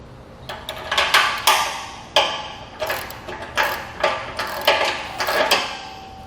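A 9/16 socket wrench ratchets in short bursts while fastening parts of a Malone MegaSport trailer with saddle-style carriers, giving clicking runs with a few sharper metallic knocks, close and fairly loud.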